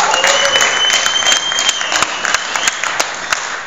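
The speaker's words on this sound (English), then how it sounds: "another round of applause for my friends who can actually shoot" Sustained audience applause at a stand-up comedy show in a bank venue in Chillicothe, a dense steady wash of clapping hands that fills the whole stretch without talk.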